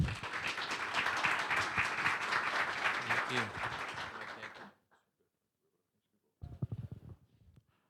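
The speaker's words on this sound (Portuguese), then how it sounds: "Pessoal, uma salva de palmas." An audience at a mining industry event breaks into loud, sustained applause that fades out after several seconds, followed by silence and then a speaker beginning to talk.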